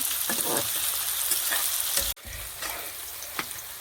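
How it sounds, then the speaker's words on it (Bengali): Onions fry in a pan with a steady, loud sizzle; a ginger-garlic paste goes in midway, and the hiss briefly drops before it resumes, with occasional stirring scrapes. "পেঁয়াজটা ভালো করে একটু ভাজা ভাজা হয়ে যাবে, তারপরে আদা রসুন পিষে রেখেছি"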